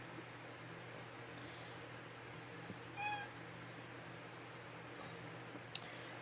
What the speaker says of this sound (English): That's my cat Munch that just meowed.